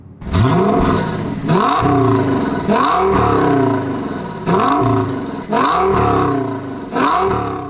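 The 5.2-litre FSI V10 engine of an Audi S8 revs repeatedly, roaring up in pitch with each burst, loud and close with short gaps between pulls.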